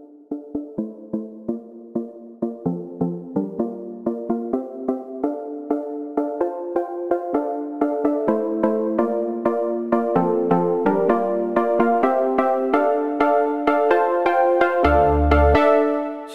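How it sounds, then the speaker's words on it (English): Synth pluck preset from the Inspire instrument with a lengthened decay and a filter slowly opening, playing a rippling run of short notes that grow brighter and fuller over time, steady and close with no voices. "I've chosen a pluck preset"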